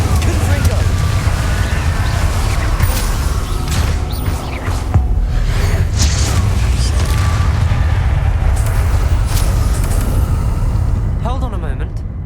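Incendio, Confringo and Bombarda spells cast in Hogwarts Legacy combat, a loud continuous barrage of booming blasts, fiery whooshes and crackling impacts layered with game music and effects.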